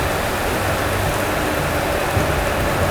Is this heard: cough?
no